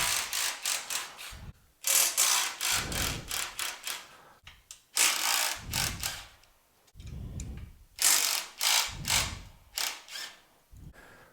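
A socket ratchet loosens the frame bolts on a Cub Cadet 3X snow blower, with repeated bursts of rapid clicking separated by short pauses, close and fairly loud with no talking.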